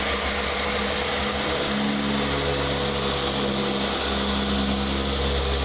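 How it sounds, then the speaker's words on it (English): A machine polisher runs continuously at close range, a loud, steady motor whir with a slight shift in pitch partway through, with no talking. "Let the polisher do its work."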